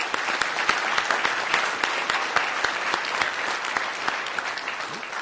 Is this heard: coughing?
no